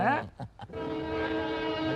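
A Central Railway train arrives, its horn sounding as a loud, sustained tone for most of the moment after a short, broken burst of voices at the start.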